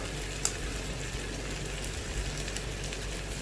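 Green chilies with mint and coriander leaves fry in a pan for a family feast, giving a steady, fairly faint sizzle with soft crackles throughout and no voices.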